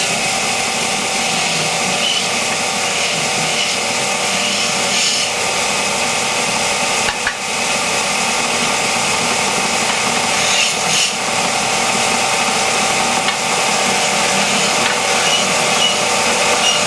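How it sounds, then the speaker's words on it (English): Disc sander squaring the ends of a wooden pen blank, a steady loud abrasive whir with grinding rasp running throughout, no talk over it. "so I'm going to square the ends off now on the disc sander"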